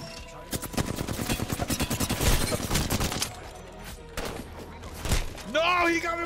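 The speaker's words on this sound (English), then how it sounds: "He got me with the shotgun!" Shotgun and other gunfire in Apex Legends rattle in rapid bursts during a ranked match, moderately loud beneath game sounds, with a short shout near the end.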